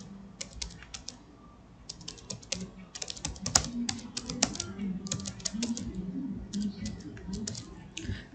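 Rapid clicking of keys on a computer keyboard while typing text into a Word document, close and steady in uneven bursts with brief pauses; no one speaks.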